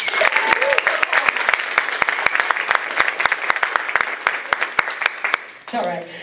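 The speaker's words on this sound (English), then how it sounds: "A little round of applause." Sparse applause at a green-jobs forum plenary, a modest number of distinct claps in a brisk irregular rhythm, fairly close, then giving way to someone speaking at the end.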